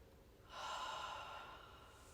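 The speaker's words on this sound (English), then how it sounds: "Exhale out the mouth." A single slow, soft exhalation out through the mouth, close and gentle, rising after a brief pause and fading gradually over more than a second in a quiet room.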